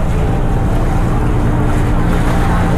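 A cruise ship's deck on Ha Long Bay carries a steady low engine rumble with wind and water noise, continuous and fairly loud with no talk.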